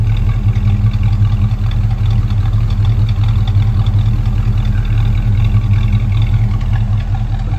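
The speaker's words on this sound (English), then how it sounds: "Let's listen to this dual exhaust here. It's got a nice note to it." A 1952 Pontiac Chieftain De Luxe Catalina idles smoothly through its dual exhaust, giving a steady, loud, low rumble with an even throb and no break over the whole stretch.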